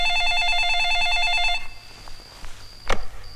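An electronic telephone ring trills loudly in steady warbling bursts for about a second and a half, then stops, leaving faint room noise and a short sharp click near the end.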